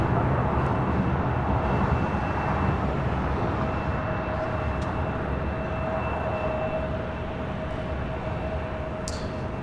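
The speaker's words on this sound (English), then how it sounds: "737-800 heading to Austin, Texas, taking off on 25 right." Boeing 737-800 taking off on runway 25 right at LAX, a continuous broad engine rumble with a steady whine that slowly fades as the jet moves off.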